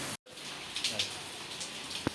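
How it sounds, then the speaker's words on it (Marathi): Heavy monsoon rain pours in coastal Malvan, Konkan, during a flood: a steady broadband hiss of rainfall with scattered drop impacts, broken by a brief moment of silence near the start. "गाईज फुल पाऊस पडला आहे"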